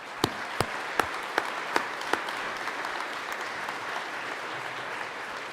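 In the Colorado Senate chamber, a gathering applauds for the Senate President and his wife; several loud distinct claps ring out near the start over a softer continuous patter that carries on throughout.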